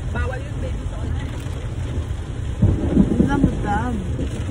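Steady heavy rain in Rizal hisses close by with a deep rumble underneath, while voices chatter faintly over it.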